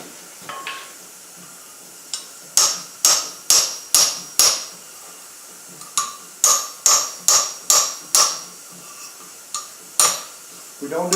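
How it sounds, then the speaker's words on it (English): A hammer strikes a pecan shell on a metal anvil during forging, closing it up in close, loud, ringing blows that come in quick clusters of four to six with short pauses between. "Now we're going to take it over to the anvil and we're going to close it up"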